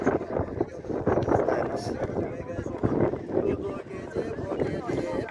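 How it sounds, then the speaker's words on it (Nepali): Strong gusts at the Jhyangdanda market buffet the microphone in a rough, continuous roar that rises and falls, with a person talking underneath. "आज चाहिँ अब हावा एकदममा छ है"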